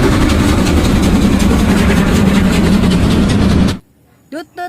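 A toy train runs with a steady, loud rattling mechanical hum for nearly four seconds, then stops abruptly, followed by brief quiet vocal sounds.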